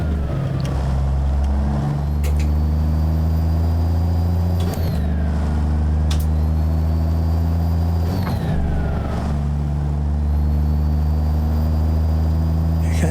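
A ZeeMods N14 diesel engine in a Peterbilt 379 truck in American Truck Simulator idles steadily with a deep, loud, continuous rumble throughout, rising briefly in pitch several times as it revs.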